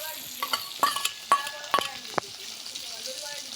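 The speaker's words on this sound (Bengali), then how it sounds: "এই যে চিংড়ি মাছগুলো দিয়ে দিব।" Prawns sizzle in a pan with a steady frying crackle, and a spatula knocks and scrapes against the pan in sharp, irregular clicks up close.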